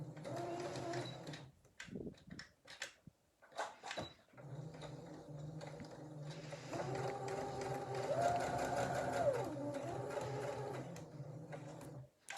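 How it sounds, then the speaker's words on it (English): A sewing machine stitches a fabric seam on a drawstring bag, starting with short stop-and-go bursts of stitching, then a longer steady whirring run, near and moderately quiet. "I'm just going to start at that top edge, my 3 stitches forward and 3 stitches back"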